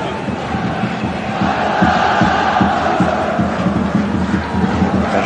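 Marseille football supporters in the stadium during a 1996-1997 Division 1 match at Lyon, a loud, dense crowd roar with chanting and cheering filling the whole stretch.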